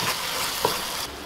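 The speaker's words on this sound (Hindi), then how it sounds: "हाई फ्लेम पे हम 2 मिनट के लिए सौटे करते हैं" Vegetables for kadai paneer sautéing over a high flame, a steady close sizzle with a brief stir or scrape near the middle, no voices.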